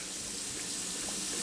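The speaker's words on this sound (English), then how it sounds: "You might hear my water running in the background." Tap water runs steadily into a sink throughout, a constant broadband rush with no talk over it, in a home-brewing setting while an IPA is made.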